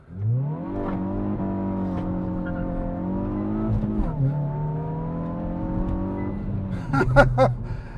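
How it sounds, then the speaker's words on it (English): Hyundai i20N hot hatch launching from a standstill, engine revving up through rising gear pulls with brief shift dips, loud and close, ending in sharper bursts of revving. "Let's just give it a bit of a launch off here, shall we?"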